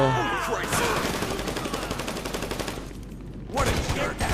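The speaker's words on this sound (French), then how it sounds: "Ça tire à droite comme à gauche." Dense gunfire in the GTA 5 video game during a police shootout, a continuous rapid crackle of shots with loud bursts throughout, briefly thinning near the end before firing resumes.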